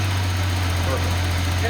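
An old car engine idling with its idle air control circuit unplugged, a steady low droning hum with a faint rough vibration, close and continuous throughout.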